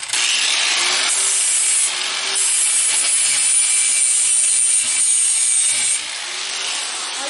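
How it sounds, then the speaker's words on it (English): A steel skinning-knife blade is ground into shape before heat treating, making a loud, continuous abrasive hiss that holds steady and then drops slightly in level near the end. "I'm going to grind out my blade and get it the way I want it to look before I heat treat."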